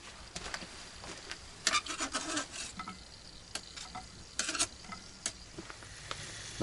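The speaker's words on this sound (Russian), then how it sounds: "Сало мелко порезали и отправляем на разогретую сковородку." Finely diced pork fat (salo) frying in a hot pan with a little vegetable oil, with bursts of crackling sizzle and scraping stirs coming in irregular clusters, close and fairly quiet.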